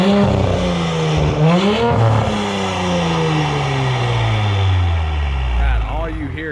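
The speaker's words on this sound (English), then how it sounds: "all you hear is turbo spool" A B9 Audi S5 with a catless downpipe, front resonator delete and mid muffler delete is revved several times, each rise and fall of the engine joined by a whining turbo spool.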